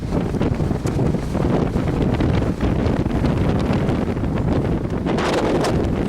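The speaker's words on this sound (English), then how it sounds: "Oh my god, that's windy." Strong wind at Wellington Airport buffets the microphone in a continuous loud roar with rough gusts and rumbling, no speech.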